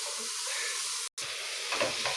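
Food sizzling in a hot pan on an Indian home stove, a steady close hiss of frying with a brief dropout and some stirring scrapes near the end, no talk.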